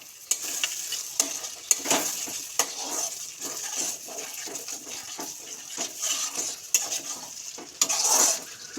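Spices stir-fried in ghee for a cauliflower curry with yogurt, made without onion or garlic, give a soft steady sizzle broken by repeated scraping stirs of a spoon in the pan.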